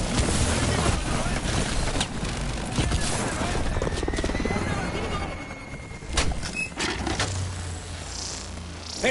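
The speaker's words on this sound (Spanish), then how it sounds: "¡Helicópteros de Atlas! ¡Están descendiendo con cuerdas!" Atlas helicopters descend in the video game Call of Duty: Advanced Warfare, a loud, continuous rotor roar churning through dense battle noise.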